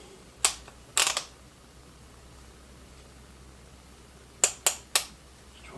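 A torque wrench clicks sharply while a 1993 Harley FXR 89ci stroker gearcase is assembled: two quick clicks early, then three more in a fast row, over a quiet background.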